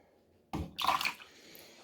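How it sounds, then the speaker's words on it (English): Stock bath liquid for 35mm film developing sloshes and splashes in a short burst after a quiet start, a close, wet pouring gush that tapers into faint trickling. "So I've poured my stock bath in now."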